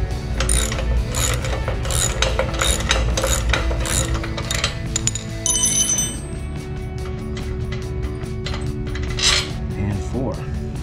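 Ratchet wrench clicking as bolts come off the corners of the shipping crate for a Ryobi RM480EX 38-inch electric riding mower, rapid repeated ratcheting bursts close by, with a brief voice in the background.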